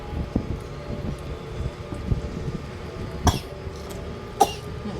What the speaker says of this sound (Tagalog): Ubo ang baby namin.